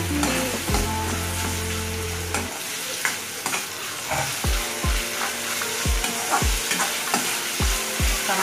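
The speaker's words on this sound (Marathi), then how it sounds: "टमाटा देखील आपल्या शिजत आहे, कांदा पण बऱ्यापैकी आपला शिजला आहे।" Onion and tomato sautéing in a pan over low gas for an okra curry, with a steady sizzle broken by repeated scraping stirs of a spatula, close and clear, no talking.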